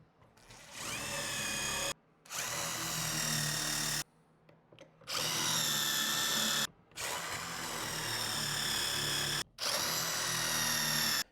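A power drill bores pocket holes in plywood for a shop sanding cabinet, four loud whining bursts of roughly two seconds each, split by brief pauses, with no talking.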